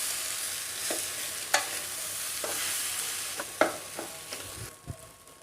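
Idli upma with onion and tomato being stirred in a pan, with a light frying sizzle throughout and a few sharp spoon taps and scrapes against the pan, close but fairly soft.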